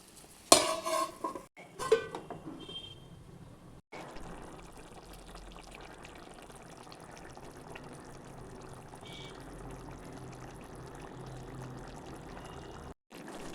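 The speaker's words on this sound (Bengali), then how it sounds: "দেখো এবার গরম মশলা দেখো গরম মশলা দিয়ে একটু নেড়ে নিলাম" Cauliflower curry gets stirred in a pot after garam masala is added, a few loud clanks and scrapes at the start, then a soft steady simmering hiss near the pan with no voices.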